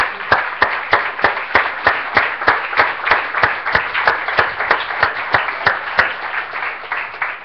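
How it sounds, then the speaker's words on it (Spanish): In a church service, a congregation claps in unison with a steady, regular rhythm, loud and close, each beat sharp and evenly spaced for the whole stretch. "Démosle un aplauso"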